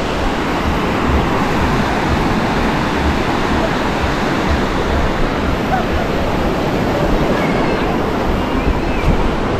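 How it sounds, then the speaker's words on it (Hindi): Sea waves wash onto a beach with a loud, continuous roar of surf and some wind rumble, filling the whole stretch without pause. "पानी की आवाज़ बहुत तेज़ हो सकता है"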